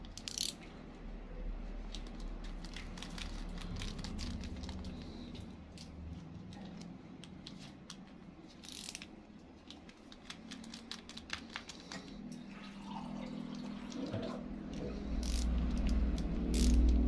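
A ratchet wrench backs out bolts on a Daido Queen Sea SW scooter, its fast clicking pawl coming in repeated close bursts over a low background hum, with no talking.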